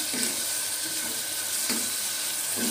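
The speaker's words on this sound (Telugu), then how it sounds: "కర్రీ అయితే వండుతున్నాను. ఆనియన్ అయితే వేసాను, బాగా మగ్గనివ్వాలి ఆనియన్." Onions sizzling in a pan for a ridge gourd curry, a steady broadband fry hiss with a few soft stirring clatters spread through, fairly close and continuous with no talk.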